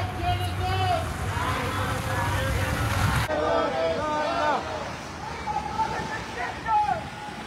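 Passing cars sound their horns on a city road, several tonal honks rising over traffic rumble while a person talks nearby.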